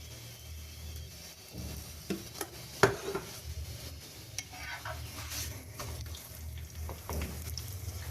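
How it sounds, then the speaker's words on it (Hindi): Halwa paratha cooks in ghee on a griddle with a low, steady sizzle, broken by a few soft scrapes and taps of a spatula. "इसको मैं सेक रही हूँ और सेक के अच्छा सा गोल्डन करूंगी"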